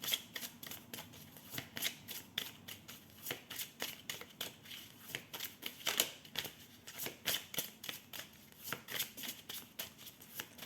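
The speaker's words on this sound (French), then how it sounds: "Je mélange bien là parce que je sens qu'il y a besoin." Tarot and oracle cards being shuffled at length, a steady run of crisp riffling slaps and paper flutters close by, with no one speaking.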